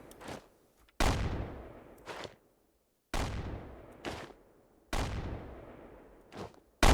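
Explosions go off inside a base in a video game: four or five sharp, loud blasts, each with a fast attack and a crackling decay, arriving in irregular pairs separated by brief silences.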